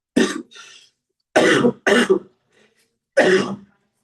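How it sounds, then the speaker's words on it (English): Four harsh coughs, separate bursts spaced over a few seconds with silence between them, close and fairly loud. "Forgive me for constantly coughing."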